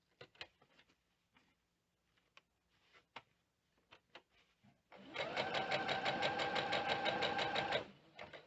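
A sewing machine slowly stitches firm tricoline cotton fabric. Scattered clicks and handling taps come first, then the motor hums into a steady, even run of rapid stitches for about three seconds before stopping.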